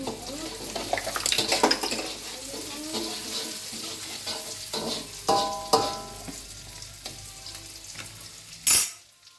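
Shallots fry in a pan until wilted, a continuous sizzle broken by scattered utensil scrapes and clinks, with a sharp knock near the end; faint background voices.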